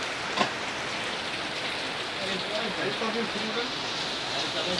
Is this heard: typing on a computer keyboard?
no